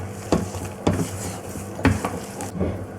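A spoon stirs a cup of milk powder mixture in a pan for apple burfi, making close scraping strokes with several louder knocks against the pan at uneven intervals.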